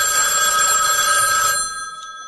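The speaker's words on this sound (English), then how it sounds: "Phone always rings at the wrong time." A telephone bell rings loudly and close, one continuous ring that stops and fades out at the end.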